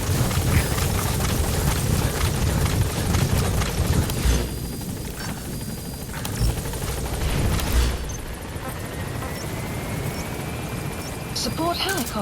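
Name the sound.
support helicopter arriving in Metal Gear Solid V video game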